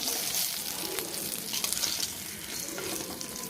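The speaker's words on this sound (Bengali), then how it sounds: "এরকম লালচে লালচে করে ভাজতে হবে এটাকে" Pointed gourd slices fry in a wok, browning to a reddish color, with a continuous close sizzle and crackle and occasional scraping stirs, no talk over it.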